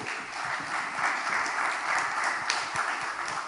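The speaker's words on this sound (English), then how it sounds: "let's give a resounding applause" Audience applause at a marketing conference in Delhi, a steady crowd of clapping hands sustained for several seconds at moderate loudness, with no talk over it.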